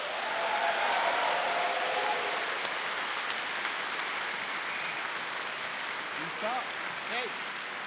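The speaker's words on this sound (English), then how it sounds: "a big, big welcome back applause for John Animations and Shady Vox" Welcome-back applause from a convention audience at a pony fan gathering, a broad wash of clapping sustained throughout, with a few faint whoops and crowd voices rising near the end.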